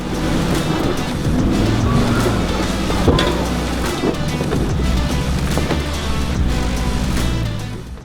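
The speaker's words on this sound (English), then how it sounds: "it wasn't the prettiest drive across, but Nathan's BT50 is a manual" A manual Mazda BT50 ute driving across a river makes a continuous loud engine rumble mixed with rushing, splashing water and wind buffeting the microphone.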